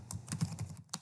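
Quick, light clicks of fingers typing on a computer keyboard, a short burst of several keystrokes heard up close and quietly.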